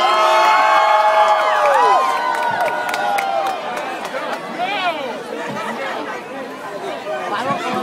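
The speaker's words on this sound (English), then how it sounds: "Let's give her a big BEC round of applause." An audience at a BEC event greets teacher Kimberly Mooney of Roland Park Elementary Middle with loud, close cheering, whoops and excited crowd chatter that gradually settle to a steadier murmur.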